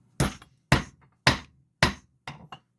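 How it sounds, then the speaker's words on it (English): A poly hammer taps a Lee hand loading tool while reloading .303 British cartridges: five crisp, evenly spaced knocks close up, each ringing briefly before silence, the last one softer with a small rebound. "You want to use a poly hammer for this entire process."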